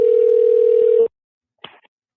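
A telephone ringback tone on an outgoing call holds as one steady, clear tone for about a second, then cuts off, followed by a short faint rustle and silence.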